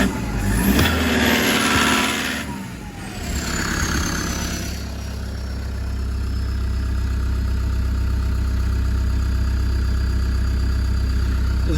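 A Toyota Dyna truck engine with a fuel system leak fault catches after cranking, revving up sharply then settling into a steady, close idle that runs on alone.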